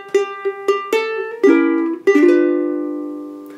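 Ukulele strumming a rhythm from a rag, a few short bright chords followed by longer ringing strums that sustain and fade, close and alone.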